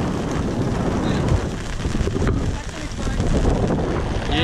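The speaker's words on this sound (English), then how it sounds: "Yeah, it's windy, so the wind takes the rain all the time." Strong wind buffets a fishing boat at sea off Miami Beach in rain, producing a loud, steady roaring rush across the microphone that swells and dips throughout, with faint muffled voices underneath.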